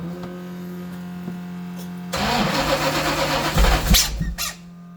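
A supercharged 383 engine in a third-generation Camaro IROC-Z, with metal in the oil, cranks with a steady starter whine for a couple of seconds, then catches and roars briefly before settling back down.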